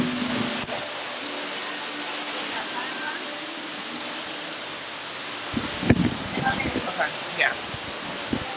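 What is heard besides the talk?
wind blowing into the microphone outdoors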